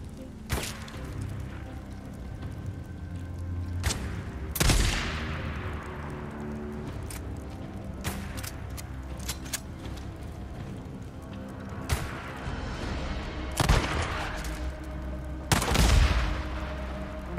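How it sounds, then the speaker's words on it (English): Gunfire in the video game Days Gone: scattered sharp shots and a few heavier blasts ring out at irregular intervals over a steady rumbling background, some loud and close, others more distant. "Where's that shot even coming from?"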